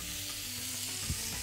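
Butter, rice, pepper and salt sizzling in a pan as they are stirred, with a steady frying hiss and a brief scrape of the utensil, no voices.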